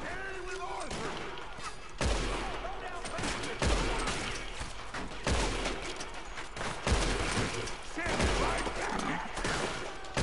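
Gunfire in the video game Red Dead Redemption 2 crackles in repeated heavy bursts, with sharp thumps about every couple of seconds in a dense, busy mix.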